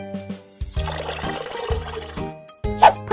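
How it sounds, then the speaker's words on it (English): Bath water splashing and bubbling in a baby care video game, a short run of liquid gurgles and pours set over steady game music, fairly loud and without talk. "Let's make some bubbles."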